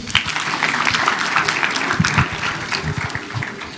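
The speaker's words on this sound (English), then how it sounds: "Please clap for him." A group of students clapping for a classmate at a university induction and orientation program, close, uneven claps in a loose patter, loud and unaccompanied.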